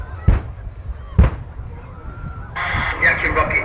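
British Army AgustaWestland Apache attack helicopter firing rockets at an air display: two sharp, loud bursts a second apart, then a sustained roaring rush as the engagement continues, with a commentator talking throughout.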